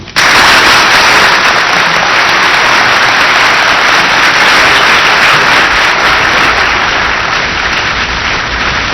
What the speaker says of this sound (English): The applause was sustained and vigorous.